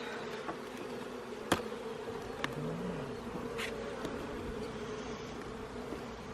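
Honeybees buzz in a steady close drone while a nucleus colony is opened and inspected, with a few faint clicks and knocks of hive frames.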